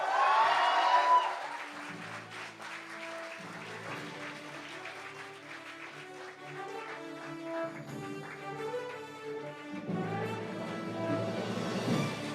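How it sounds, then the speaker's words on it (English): Audience at a medical school MBBS graduation ceremony applauding the new medical graduates, with steady clapping that swells at the start and again near the end, mixed with music-like tones throughout. "Let's give them a big round of applause."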